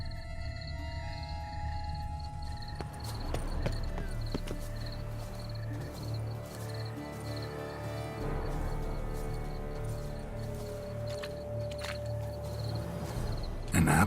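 Horse hooves clip-clop at a steady walking pace in The Witcher 3: Blood & Wine, Countess Noturna's steed in Toussaint, close and moderately loud over a continuous ambient game soundscape with a soft tonal hum.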